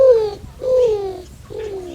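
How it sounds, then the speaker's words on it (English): Greater roadrunner, a Southwest cuckoo, gives three slow, descending cooing calls, each a drawn-out dove-like note falling in pitch, clear and close with brief gaps between them. "you may see a greater roadrunner, an iconic bird of the Southwest."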